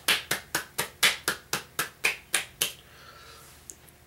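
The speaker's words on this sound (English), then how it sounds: "Let's give a round of applause." One person claps about a dozen sharp, evenly spaced times in a quiet room, each clap crisp and close, then the claps stop, leaving near silence with a faint click.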